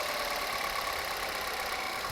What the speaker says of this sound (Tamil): வண்டி ஸ்மூத்தாக இருக்குது பாருங்கள்.